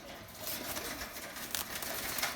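Erzurum white pigeons coo softly close by, low throaty calls under a busy rustle of wings and movement in their loft, with brief scuffs and flutters; no one speaks.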